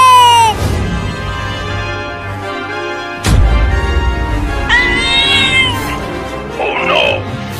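A cartoon cat meows loudly several times in a Hindi comedy cartoon, with drawn-out, bending cries over a steady low background hum and a sharp crash partway through.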